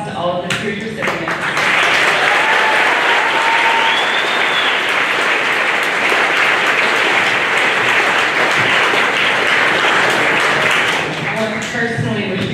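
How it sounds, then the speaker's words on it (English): At an eighth grade celebration ceremony, a large crowd applauds the award recipients with loud, sustained clapping and a few whistles, with brief talk at the start and again as the clapping fades at the end. "Please give another round of applause to all of this year's recipients."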